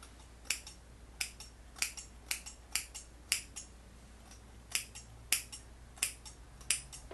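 Scissors snip away the lace strip of a wig in a series of crisp, close metallic clicks, about a dozen quiet cuts at an uneven rhythm against near silence.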